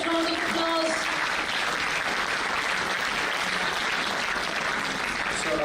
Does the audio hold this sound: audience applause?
yes